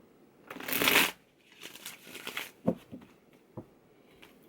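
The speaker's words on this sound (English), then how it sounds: "I'm shuffling these good" Tarot cards shuffled up close, starting with a loud riffling burst and settling into softer papery shuffles and a few sharp taps, with no voices.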